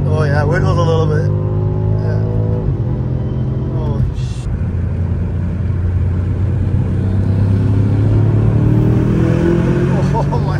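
A BMW M5 pulls hard in fifth gear, its engine droning loud and close with a steady rising pitch from inside the cabin, while occupants talk briefly over the roar.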